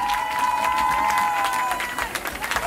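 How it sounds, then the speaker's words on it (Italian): Crowd applause and cheering at a beach pride party, mixed with a sustained tone and background party noise, with clapping becoming more distinct toward the end. "E l'ultimo applauso è per lui"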